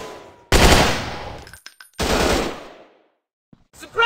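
Sustained machine gun bursts ring out in a night combat action video game, two loud, dense volleys with a brief break between them and shouted voices.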